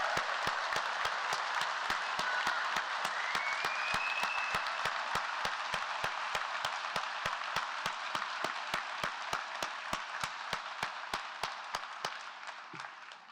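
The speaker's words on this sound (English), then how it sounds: "A big round of applause for all our students." Sustained applause from a large crowd at a university pharmacy white coat ceremony, dense and steady clapping that fades slightly toward the end, with no voices.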